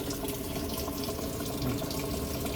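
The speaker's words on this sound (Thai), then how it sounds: "น้ำเริ่มเข้าแล้วนะ" A Samsung Inverter top-load washing machine under repair takes in water, giving a constant, close rushing and splashing of the fill stream with no voices over it.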